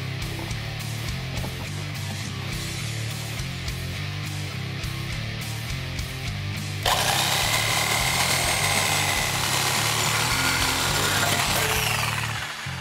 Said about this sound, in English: Everything looks good so we can cut the pipe.